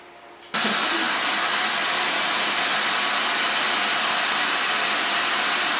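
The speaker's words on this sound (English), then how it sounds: "Then I'm going to blow dry this with a diffuser, because I want to bring out all the wavy effects and the natural shapes." A hair dryer fitted with a diffuser blows steadily on curly hair, its loud, constant broadband rush switching on abruptly after a brief quiet start and running unbroken to the end.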